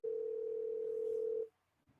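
A telephone dial tone holds steady and clear for about a second and a half, then cuts off abruptly as a call is placed, followed by near silence.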